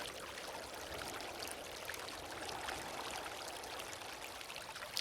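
Water flowing steadily inside an underground shaft built of cornbrash, a continuous echoing rush and trickle that holds even and close throughout with no voices.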